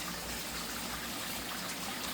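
Water spills steadily down a small pond waterfall, aerating the pond below, a constant broadband splashing rush with no pauses and no voices.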